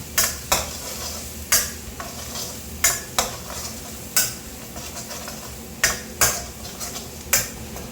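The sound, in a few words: stir-frying minced garlic in a wok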